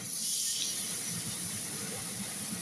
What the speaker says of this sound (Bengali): টমেটো ঢেলে দেবেন